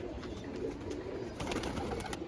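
Domestic pigeons coo softly in a loft where chicks are hand-fed, their low murmuring calls repeating over a steady background hiss with no talking.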